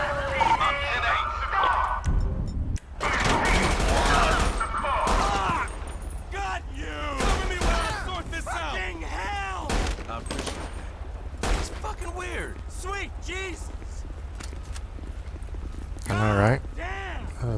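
Rapid bursts of gunfire ring out during a police chase in GTA 5 with the LSPDFR police mod, set at the Los Santos port terminal, with loud shots cracking over background game noise and voices talking.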